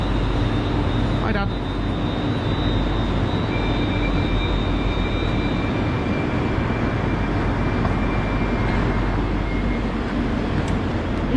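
A train arrives at a station in a loud, steady rumble with a long high squeal of wheels or brakes, a brief voice greeting over it.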